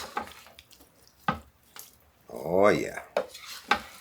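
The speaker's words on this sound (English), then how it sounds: "Let's get that stirred up, get that meat well coated with that seasoning" Beef with chili seasoning is stirred in a pot, with several sharp scrapes and clanks of a utensil against the pot and a short stretch of heavier sloshing, close up; one brief spoken interjection.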